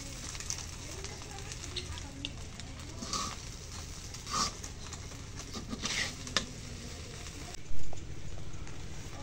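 A pot of biryani being stirred on the stove, giving soft scraping and patter over a low sizzle, with occasional sharper knocks of the spoon against the pot.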